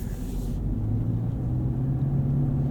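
A 2023 Toyota Corolla Hybrid XLE is driven, giving a steady low cabin rumble of road and drivetrain noise with a soft hum, and no voices.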